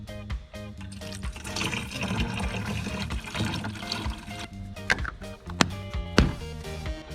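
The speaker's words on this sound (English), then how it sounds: "So we'll start with the easiest one right here, windshield washer fluid." Windshield washer fluid pours steadily into the reservoir of a 2014 Dodge Ram 1500 5.7L, a continuous liquid gurgle and splash with a few sharp clunks near the end.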